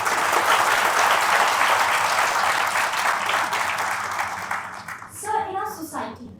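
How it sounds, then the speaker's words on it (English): An audience at a leadership talk applauds, a dense, loud wash of clapping that fades away over several seconds, after which a voice begins speaking. "Can we have a huge round of applause?"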